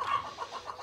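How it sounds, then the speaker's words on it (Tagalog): A backyard laying hen clucks in a few short, soft bursts close by. "katong napo ka manok nga gikuha nato ni Dapodil."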